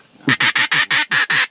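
Green-winged teal ducks quack seven times in a quick, evenly spaced series, loud and close, during an early teal hunt in Iowa, with no talking over the calls.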